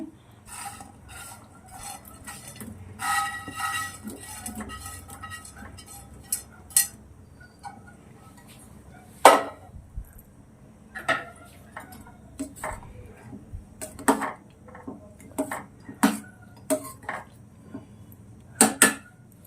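Paneer cubes dropped into a pan of tomato curry and stirred, with repeated metal spoon scrapes and clinks against the pan, sharper knocks scattered through, close and fairly quiet with no talk.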